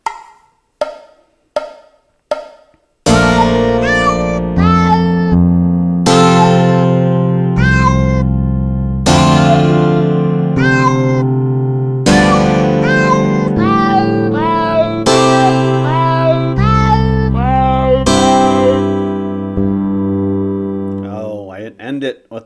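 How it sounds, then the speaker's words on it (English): Low synthesized cat meows play as notes in a song composed in the Flat.io notation app. Several short meows open the passage, followed by a long run of sustained, pitched meow tones one after another, loud and clear, with no talk. "That's a very low meow."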